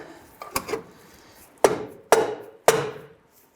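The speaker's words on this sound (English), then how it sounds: "I'll probably take a few bonks with a rubber mallet to get things to line up." A rubber mallet strikes a 1994–2004 Ford Mustang front lower control arm, giving several sharp, close knocks: a couple of lighter taps followed by three louder, evenly spaced blows that each ring out briefly.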